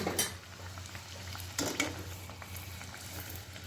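Puris fry in hot oil with a soft, quiet sizzle broken by a couple of brief bubbling bursts as the dough hits the pan. No voices are heard.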